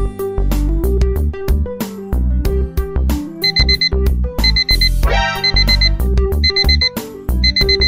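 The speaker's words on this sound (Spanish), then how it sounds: "como odio la alarma del despertador" An alarm clock rings in repeated bursts of bright beeps over loud, busy music, sounding close and insistent.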